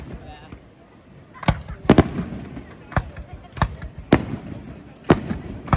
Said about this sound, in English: So this fireworks display is in loving memory